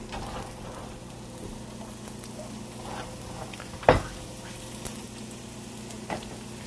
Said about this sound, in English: All right, our oil is heated up, so we're going to throw our onions in here